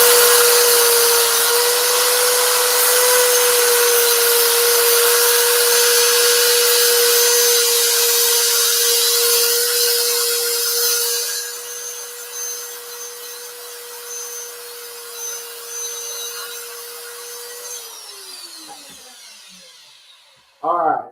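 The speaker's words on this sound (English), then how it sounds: "we're going to start sanding" Resin piece turning on a wood lathe while being sanded, a steady loud whirring hum with abrasive hiss that drops quieter partway through, then the motor winds down near the end.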